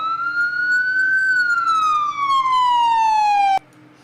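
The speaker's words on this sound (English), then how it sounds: "Let's hit the siren." A police car siren in the video game Police 1013 wails loud and clear in one long sweep, rising and then slowly falling in pitch before it cuts off abruptly.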